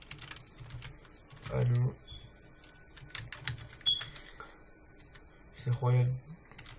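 Soft keyboard typing to search for an item in the Dofus game, a light patter of keystrokes close by, heard under someone speaking French.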